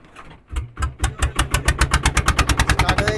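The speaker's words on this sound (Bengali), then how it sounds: "আর এখন মেশিন স্টার্ট দেওয়া হচ্ছে।" A fishing boat engine on a night-time hilsa fishing trip in the Sundarbans coughs, catches and settles into loud, close, rapid rhythmic chugging that speeds into a steady idle.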